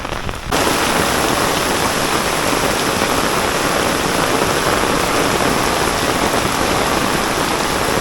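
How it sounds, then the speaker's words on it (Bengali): Heavy rain pours down in a dense, constant roar, loud and unbroken from start to finish, with no voices. "দেখছেন কি জোরে মুসুলধারে বৃষ্টি হইতেছে প্রচুর বৃষ্টি হইতেছে"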